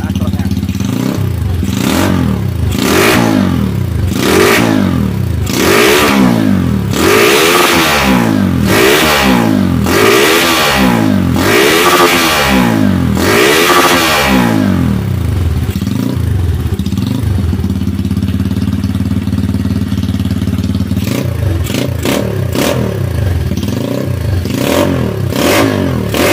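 A modified Honda Mega Pro motorcycle engine revs hard in a rapid series of rising and falling bursts, loud and close, then settles into a rough idle with some clattering.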